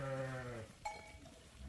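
A sheep on a farm gives a single drawn-out, nasal bleat up close, followed by quiet farmyard ambience with faint shuffling.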